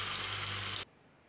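Mutton frying in a kadai: a steady, loud broadband sizzle that holds for under a second and then cuts off abruptly, leaving near silence.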